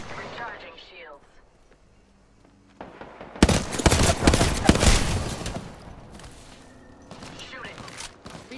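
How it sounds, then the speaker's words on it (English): Heavy gunfire in a first-person shooter game bursts in loud and dense, a sustained volley of rapid shots and blasts lasting several seconds, with a voice talking over it before and after. "Opening fire. Taking fire."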